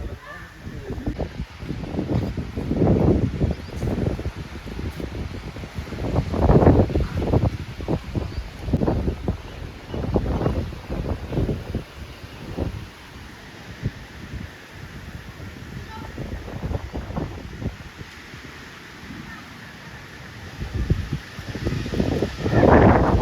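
Strong windstorm gusts roaring and buffeting the microphone in uneven surges, loud and close, while someone talks throughout.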